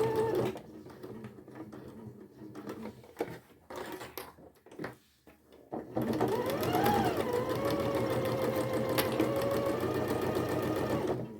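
Sewing machine stitching a padded zipped pouch: a few short stop-start bursts of stitching, then a loud, steady run of rapid needle chatter, close by and continuous.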